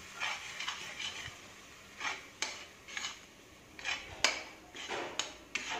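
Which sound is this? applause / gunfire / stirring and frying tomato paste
stirring and frying tomato paste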